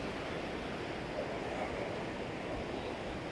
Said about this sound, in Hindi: एकदम लहरें पैरों में पड़ रहा है देखो